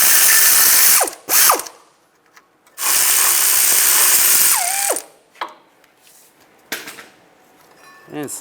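Ratchet and 21mm socket clicking through brake caliper bracket bolts on a 2006-2009 Volkswagen Rabbit front brake job, with two long loud bursts of rapid ratcheting and shorter clicks and metallic clunks between them, close up.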